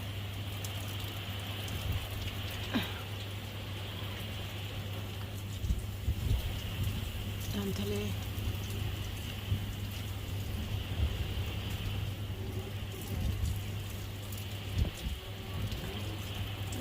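Steady rain with gusting wind in stormy weather by the sea, a constant broadband wash with a few louder gusts and rattles, and faint talk far in the background.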